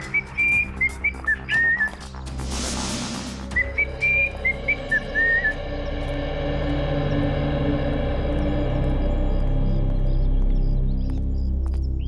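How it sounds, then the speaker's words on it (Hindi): Man whistling a short tune while walking in, a string of bright melodic notes in quick phrases, broken by a brief noise burst, then fading into a low steady hum of room tone. "बड़े आराम से सीटी बजाते आ रहे हो"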